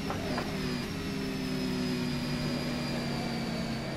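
A Formula car engine in the rFactor 2 racing game, FSR 2018 development car, drones with a steady high-pitched whine and buzzing harmonics, held at a constant pitch after a quick rev at the start, loud and unbroken.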